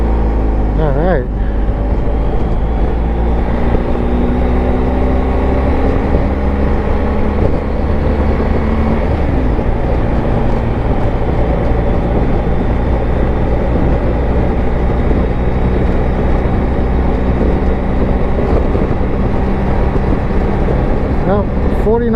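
A BMW R1250 GSA motorcycle rides a back country road over a dam, its steady engine drone and wind rush continuous and close throughout, with no clear talk over it.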